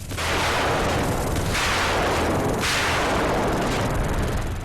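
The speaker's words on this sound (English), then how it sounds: "Hector gets up in your face, give him a shotgun" Shotgun blasts in the video game Earth Defense Force, three loud, roaring bursts about a second apart that blend into a continuous wash of booming noise with no talking.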